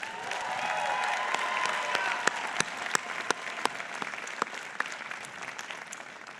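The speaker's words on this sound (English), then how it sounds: "Let's give him another round of applause." A crowd applauds at a 2026 graduate school commencement, a full, sustained roar of clapping from many hands with scattered sharper claps and the odd faint cheer rising over it.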